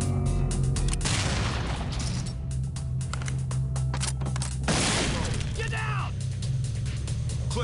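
Flashbang grenade going off in a SWAT video game, two sharp loud bursts a few seconds apart amid clattering mechanical noises, with voices talking in the background.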